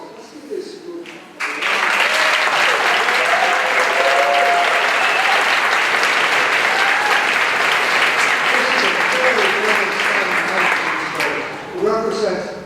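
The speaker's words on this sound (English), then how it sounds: "the applause that you gave to the individual is a little low" Audience applause fills a graduation ceremony hall: after a moment of low murmuring and a few voices, loud sustained clapping from a large crowd swells in and holds for about ten seconds, then thins as voices return near the end.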